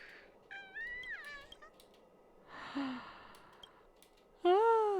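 A cat in the video game Honkai: Star Rail meows while being petted: a few short, rising mews and a breathy sigh, then a louder, drawn-out meow at the end, close and clear.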